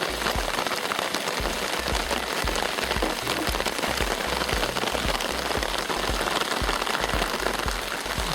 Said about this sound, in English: We're sitting here out of the rain